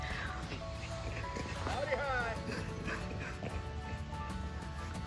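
A dog yips, whimpers and barks in short bursts at middle distance, outdoors around a house, over steady background noise.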